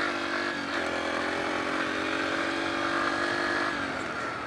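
A Yamaha TT-R125 dirt bike engine runs in a steady, loud, buzzing drone up close, its pitch drifting slightly as the throttle changes, with no voices over it.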